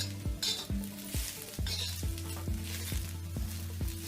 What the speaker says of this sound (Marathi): अगदी थोडं चिमूटभर जिरं यामध्ये घालते आणि चांगलं जिरं आणि खोबरं छान असं भाजलं गेलं पाहिजे